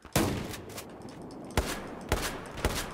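Airburst weapon fire in Battlefield 4 PC, with several loud, sharp shots at uneven intervals over a rumbling battlefield background.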